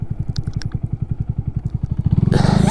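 A motorcycle engine shifts down into first gear while riding, heard as a steady rhythmic low putter that quickens and ends in a sudden burst of rushing wind noise.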